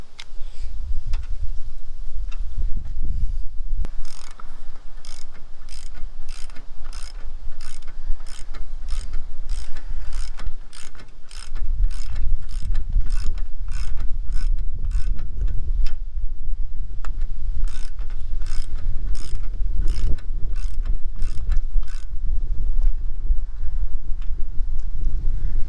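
Scooter wheels being tightened during assembly: a long run of quick, regular mechanical clicks and ratcheting ticks, close and steady throughout, over low rumbling handling noise.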